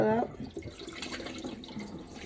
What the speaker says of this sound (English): Now it's time to add some clean water and wash it again.